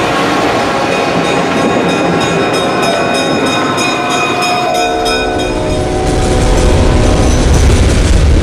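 Loud train in a video game, rumbling steadily past with rhythmic clicking from the wheels and a sustained horn tone, growing heavier and closer toward the end, with no talk.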